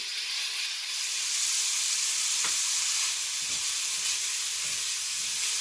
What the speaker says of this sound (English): I'm going to stir this around until my onions are nice and translucent.